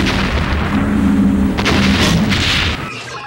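A heavy, sustained boom of a nuclear warhead blast in a space battle between starships, loud and rumbling for about three seconds with crackling bursts before it cuts off.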